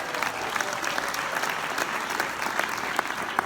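An audience at an entrepreneurs' event in London gives sustained, crowded applause for Teresa, a young woman seated in the front row. Individual claps spike through the dense wash of sound, which stays loud and steady from start to finish.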